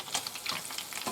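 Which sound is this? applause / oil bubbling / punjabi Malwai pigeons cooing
oil bubbling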